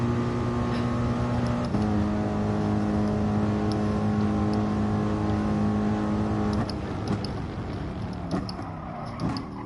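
Race car engine in Gran Turismo Sport, a steady loud drone that drops in pitch partway through, as if braking, with layered engine harmonics and no talk.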